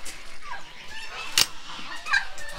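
Geese honking near a barn and duck nesting area, several sharp honks and calls scattered over a quiet background, one loud close honk standing out in the middle.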